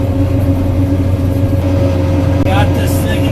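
A vehicle engine running in its lowest gear, a steady loud rumble close by and continuous throughout, with a brief higher rattle or squeal near the end.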